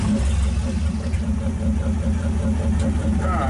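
Cadillac flathead engine in a 1931 five-window car idling at around 750 rpm, a steady low, even rumble close by, with a brief hint of a voice near the end.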